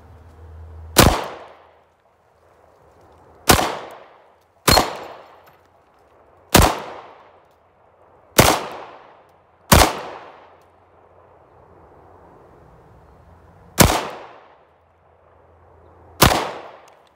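Smith & Wesson Shield EZ 9mm pistol fired outdoors, eight sharp loud single shots at uneven intervals with short ringing decays and quiet pauses between them.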